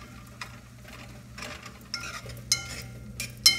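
A spatula stirs a sardine and egg breakfast in a pan: soft scraping strokes and a few sharp utensil clicks against the pan over a faint, low sizzle, with no talking.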